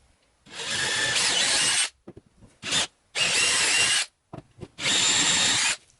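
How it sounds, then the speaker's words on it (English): A cordless drill fitted with a hole saw bores straight down into wood in three loud, close bursts of grinding, each about a second long, separated by short pauses and brief trigger blips. "we're going to drill straight down"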